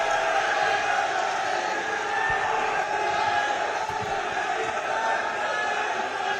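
A large crowd at an outdoor political rally in Baghpat roars and cheers in a sustained, loud wash of many voices, with whoops and possible clapping blended into the din.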